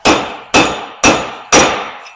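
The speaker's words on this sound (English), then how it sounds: "and then I just hammer it flat" Four loud metallic hammer strikes in a steady rhythm, each ringing briefly before the next, hammering wheel studs into a Mazda Miata rear hub held in a vise, close by with no talking.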